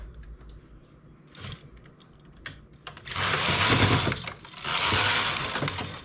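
A domestic knitting machine carriage rattles and whirs in two loud sliding passes across the needle bed while knitting rows of lace made with empty needles, preceded by quieter clicks and handling sounds.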